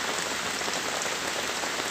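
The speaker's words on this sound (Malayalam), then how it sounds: "മഴ നനഞ്ഞുകൊണ്ടേ ഇരിക്കുകയാണ്" Steady rain falls as a dense, even hiss of drops on a surface, continuous and unbroken, with no voices.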